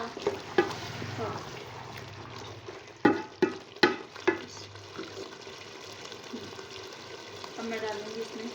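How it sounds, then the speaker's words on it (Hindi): Meat, beef for a korma, fries in ghee in a pot, giving a low steady sizzle with a few sharp clanks of a utensil against the pot. A voice is heard at times. "घी को हम अच्छी तरह से भून लेंगे।"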